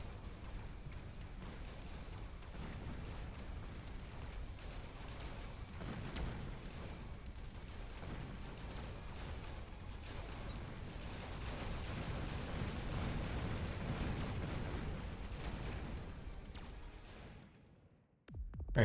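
A tower being destroyed in the Mechabellum video game, heard as a dense, sustained rumble of explosions and artillery-like booms that swells toward the end before cutting off abruptly, with no talking.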